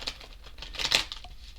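Tarot cards shuffled by hand, a quick papery riffle of soft crackling and flicking taps that swells briefly near the middle and stays close and fairly quiet, with no talking.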